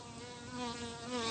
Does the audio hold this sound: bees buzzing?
yes